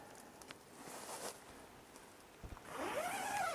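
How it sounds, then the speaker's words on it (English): Short scratchy rasps of a zipper being pulled in bursts on the front mesh door of a White Hills Backwoods Bungalow tent, fairly quiet, with a brief squeaky tone near the end. "here's the zipper for the no seam mesh door in the front"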